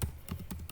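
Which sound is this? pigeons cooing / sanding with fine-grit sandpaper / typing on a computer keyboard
typing on a computer keyboard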